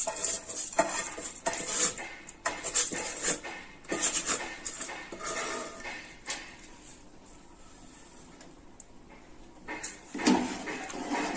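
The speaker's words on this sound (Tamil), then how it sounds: "அரிசி போட்ட பிறகு நல்லா கிளறி விடுங்க" Metal utensils scrape and clatter against a pot of rice for chicken biryani in irregular bursts, with a quieter stretch in the middle before the stirring resumes.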